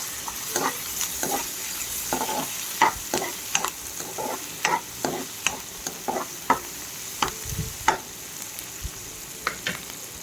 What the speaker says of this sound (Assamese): পিঁয়াজখিনি ৰঙচুৱা হোৱালৈকে ফ্ৰাই কৰি ল'ব লাগিব।